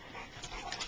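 Bullmastiff dogs pant briefly and softly, with a faint whimpery edge, while begging for chicken indoors; there is no talking.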